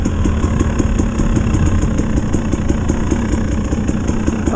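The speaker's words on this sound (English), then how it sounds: "spinning up his tyre." A dirt bike on an icy morning revs and spins up its rear tyre, producing a loud, close, continuous engine drone with a rapid pulsing throb.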